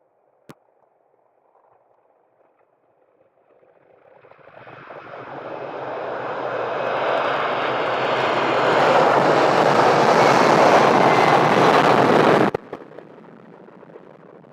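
An Air France Airbus A320 airliner at Edinburgh airport roars past, its engine noise building steadily from near silence into a loud, broad rushing drone before cutting off abruptly near the end.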